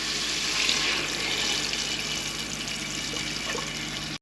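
Water pours steadily into a pot of soaked lentils for cooking dal, a continuous close splashing rush that runs evenly for a few seconds and then stops abruptly.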